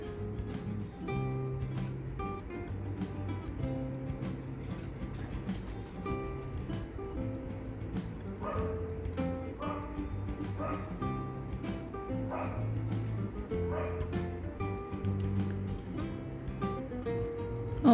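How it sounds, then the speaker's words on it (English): Several dogs bark and yip at a rabbit outdoors, a steady run of barking that carries on in the background for the whole stretch, with some faint talk mixed in. "Apologize for the barking in the background."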